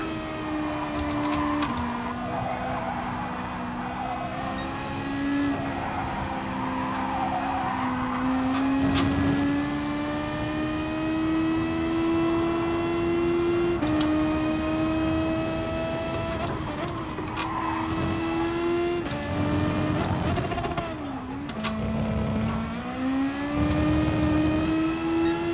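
A video game race car engine drones steadily with a rising, revving whine that holds high, dips briefly, then climbs again, loud and continuous throughout.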